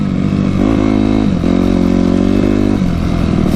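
A Yamaha YZ250F dirt bike engine revs loud and close on a first ride, its tone rising and holding in two sustained surges with a brief dip between, rough mechanical clatter underneath.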